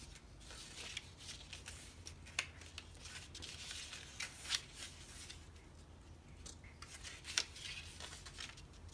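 Paper petals of a tiny rose being folded upward by hand, a quiet, close crinkling and rustling with small crisp creases scattered through, soft and intimate with no voices.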